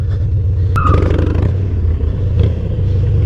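Harley-Davidson Dyna motorcycle engine rumbling steadily during a drifting attempt, with a low, loud, continuous idle-like throttle that barely rises, heard close and alone.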